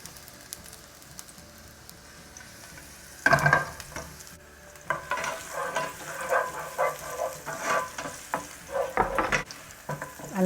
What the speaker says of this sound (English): I'm just going to throw in all the garlic first. Just give it a second to kind of sizzle up.